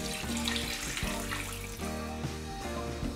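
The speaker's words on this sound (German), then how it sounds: "und fülle es nochmal auf mit etwas Wasser." Tap water runs steadily into a soup pot holding chicken broth and lemongrass, a continuous close splashing and gurgling stream that shifts slightly in pitch as the pot fills.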